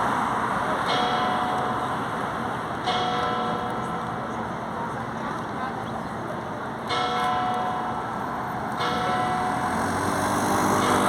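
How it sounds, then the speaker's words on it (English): Church bells ring out in Rome near San Giovanni in Laterano, with repeated strokes spaced a couple of seconds apart, loud and resonant over a constant wash of street and traffic noise. "Yes, listen to the bells."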